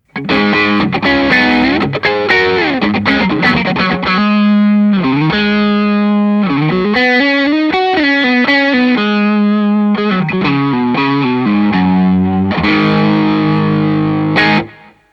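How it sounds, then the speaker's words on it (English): A distorted electric guitar through a stock Tube Screamer pedal plays loud, sustained chords and riffs for about fifteen seconds, with a thick overdriven tone and no voices. "Stock Tube Screamer is going to sound like this."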